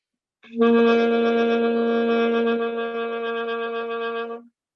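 A single sustained saxophone note played with poor embouchure, held for about four seconds, reedy and buzzy with strong overtones, wavering slightly in loudness before cutting off.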